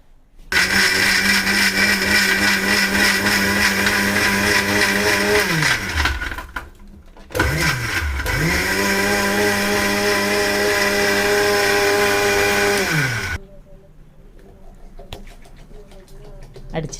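A kitchen blender whirs loudly as it blends jamun fruit juice with sugar, ice cubes and cold water, running steadily for about six seconds, pausing briefly, then spinning up again for several more seconds before stopping.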